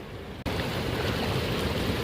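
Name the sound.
Aliyar river flowing water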